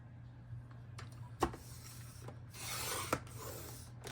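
Fabric pieces for a black and white quilt project are cut with a few short scraping strokes and a longer rasping pass, close and fairly quiet against a low steady hum.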